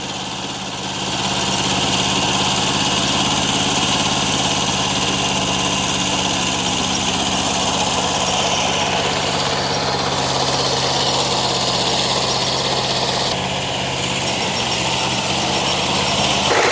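A Kubota tractor engine runs loud and steady close by during potato digging, a constant heavy rumble with slight changes in tone, no talking.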